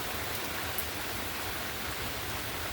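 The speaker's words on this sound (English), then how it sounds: "We're outside filming the rain." Rain falling outdoors, a steady broadband hiss of drops with no breaks, even and unchanging in loudness, and no one speaking over it.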